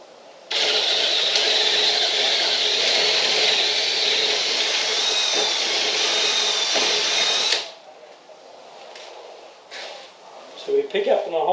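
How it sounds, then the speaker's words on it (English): A power drill bores a 35mm hole into clamped pallet wood, a loud steady whining grind running about seven seconds before cutting off, followed by faint clatter and handling sounds. "Now I've got my drill."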